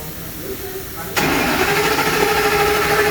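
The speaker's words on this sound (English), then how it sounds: "You can see the engine is turning over." Starter on a 2008 Ford F250 cranks the engine through a bypassed starter relay, a steady whirring churn that jumps in loudness about a second in and continues evenly, close up, with no voices.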